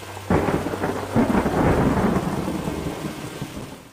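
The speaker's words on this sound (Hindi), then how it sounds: "कुछ दिनों से गांव में मूसलाधार बारिश हो रही थी" Torrential rain pouring down on a village at harvest time, a dense roaring wash with a deep rumble of thunder, loud and continuous with no voices.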